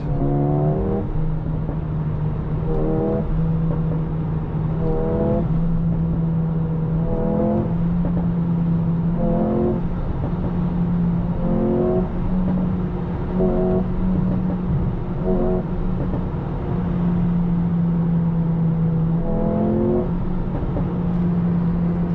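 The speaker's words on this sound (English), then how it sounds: "the car is louder in third gear than in the second in terms of pops and crackles" A 2024 Mercedes CLA 35 AMG Coupe accelerates hard in third gear. The engine rises and falls in repeated loud surges, each followed by bursts of exhaust pops and crackles, heard close up from inside the car with no talking.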